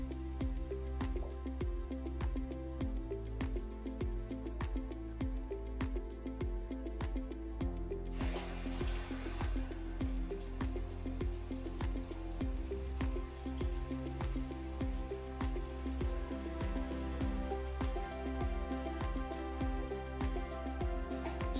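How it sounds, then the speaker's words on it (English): Water runs steadily over the brushes of a Cobi 18 robot floor cleaner as they are rinsed, making a continuous close splashing flow with a brighter, harsher spray partway through. "then we'll rinse it."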